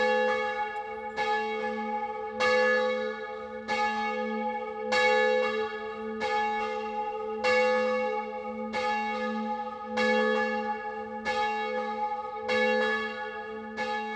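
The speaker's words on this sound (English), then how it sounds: "this is what the bells sound like" Swinging chapel bells ring in a steady repeating pattern of strikes, each one bright and ringing out over a sustained hum, with no voices.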